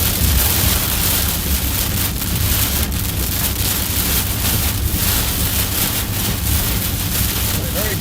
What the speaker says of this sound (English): very gusty right here